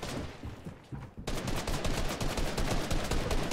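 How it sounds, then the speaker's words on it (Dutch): Rapid gunfire in Fortnite, shots punching through a wall, erupting after a quieter opening second and continuing as a dense, loud burst of repeated cracks to the end. "Hij schiet door de muur heen."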